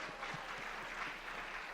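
Audience at a podcast panel in a convention hall clapping in a soft, even, continuous patter, distant and fairly faint.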